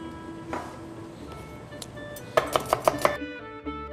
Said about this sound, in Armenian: սոխը կտրատենք